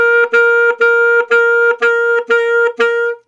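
Seven short, detached high saxophone notes played with too much reed touched by the tongue, each starting with a smudged, buzzy attack before the tone settles, played solo and close.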